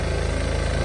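A vehicle engine idles close by as the vehicle turns around on a rainy day in Jaffna, giving a steady, loud, low rumble with no voices over it.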